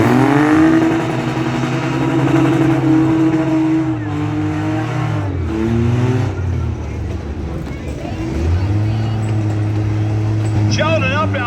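Cars in a Saturday windshield-class demolition derby at Hoagland drive and rev, their engines loud and close, rising and falling in pitch throughout, with an announcer talking over them.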